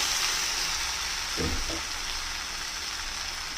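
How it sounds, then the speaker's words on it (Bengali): Potatoes and bitter gourd frying in a covered pan, a soft continuous sizzle with a brief faint clink partway through, quiet and uninterrupted by talk. "পুরোটাই বেশ ভাজা ভাজা হয়ে গেছে"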